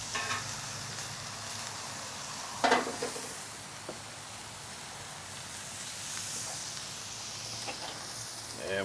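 Blackened shrimp sizzle in a cast iron pan, a steady, close hiss of frying throughout, with a brief clatter of stirring or utensil contact partway through.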